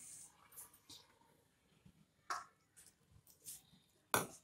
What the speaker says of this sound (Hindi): हाथ से ऐसे मिक्स करते हुए पानी डालिए